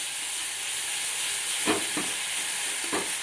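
Garlic, coriander and green chili paste fries with cumin in hot oil for a home-style gavar dish, a constant bright sizzle broken by a few short scraping stirs near the end, with no talking.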